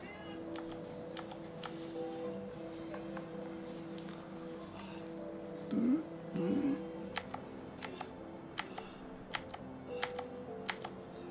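Scattered keystroke clicks from a computer keyboard come in short bursts and single taps at close range, over a steady low hum and faint tonal background sound.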